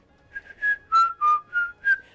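A person whistles a short tune of about six clear, sustained notes in a bouncy rhythm, close and alone with no talking.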